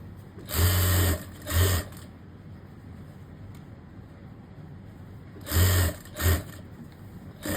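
A sewing machine stitches elastic onto pants in two pairs of loud, close bursts, each a steady whirring run lasting about a second, separated by several seconds of quiet.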